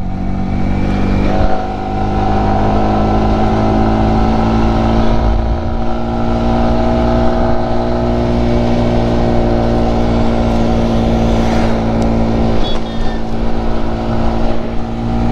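A motorcycle fitted with an aftermarket exhaust drones steadily and loudly throughout, on a rainy ride from Jorhat toward Arunachal, with a continuous deep engine rumble and wind noise and no pauses.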